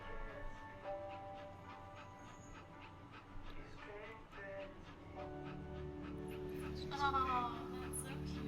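A small dog panting softly in the game That Dragon, Cancer, with light breathy rhythms and faint whimpers under game music and soft voices.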